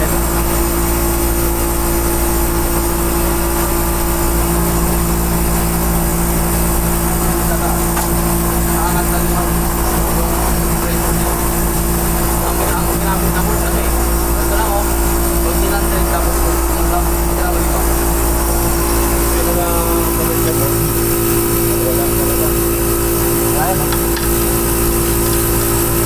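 A walk-in freezer compressor runs with heavy vibration, giving a dense, constant mechanical hum and rattle that stays close and loud throughout, with a low tone shifting partway through.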